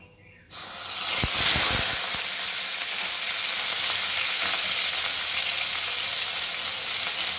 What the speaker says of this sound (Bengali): ফোড়নটা একটুখানি নেড়ে নেব গ্যাসের ফ্লেমটাকে একদম লোতে করে দিয়ে দেব পেঁয়াজ বাটা